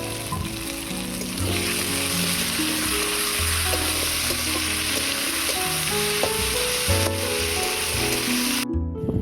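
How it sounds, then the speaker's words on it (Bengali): Bitter gourd and potato pieces fry in hot oil in a pan, giving a loud, steady sizzle with stirring that runs throughout under background music. "সবজিগুলোকে এবারে তেলের মধ্যে ভেজে নেব।"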